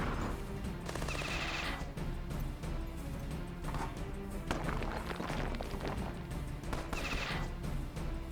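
Units firing in the strategy game Battle Nations, with bursts of gunfire and rattling volleys mixed with crashes over a busy game soundtrack.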